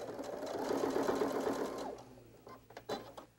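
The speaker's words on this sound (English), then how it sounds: "I'm going to take this over to the sewing machine and stitch down that handle on each of the short ends" A sewing machine stitches down a fabric handle on the short ends of a quilted train case. It whirs steadily for about two seconds, then stops, followed by quiet handling clicks and rustles.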